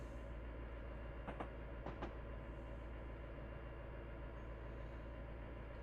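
A commuter train on the Miami to West Palm Beach line gathers speed along the rails, a steady broadband rumble and roar with a few brief metallic clanks, heard from inside and continuous throughout.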